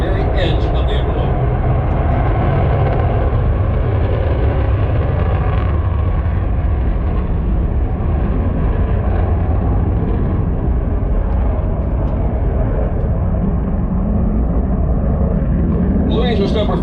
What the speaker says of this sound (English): Lights his afterburners and hangs his jet strictly on the power of his two GE414 engines